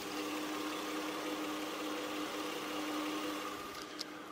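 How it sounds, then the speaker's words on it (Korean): A Hyundai Grandeur HG LPI running on LPG idles quietly with its hood open, giving a smooth, low, steady hum without knocking or revving. "정말 정숙하고 조용한 엔진 소음 만나보실 수가 있고"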